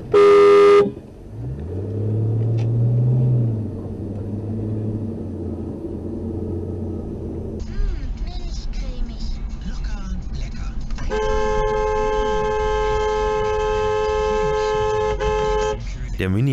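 Car horns honk in city traffic, a loud blast at the start followed later by long sustained honking over engine rumble, heard from inside a car on the road.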